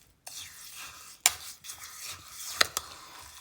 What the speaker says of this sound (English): So I've added in my 3rd scoop of the half a cup, and then I'll stir it around